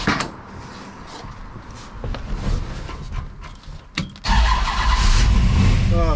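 1955 Plymouth engine after a roller cam swap cranks and catches, settling into a rough, loud idle after a few seconds of clunks and rustling nearby.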